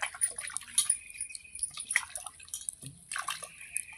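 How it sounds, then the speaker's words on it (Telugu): Carrots being washed in water by hand: scattered soft splashes and drips come in irregular bursts, close and fairly quiet, with no talking. "క్యారెట్ కడుక్కోవాలి మంచిగా కడిగి"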